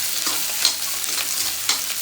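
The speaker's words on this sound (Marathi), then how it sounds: "मी पहिला कांदा भाजून घेते" Chopped onion frying in leftover fritter oil, a steady close hiss of sizzling with a couple of brief spoon scrapes.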